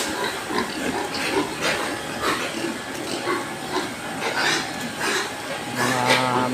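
Pigs on a pig farm grunt and snuffle in a dense, continuous chorus that is fairly loud and close, with a voice heard faintly at times.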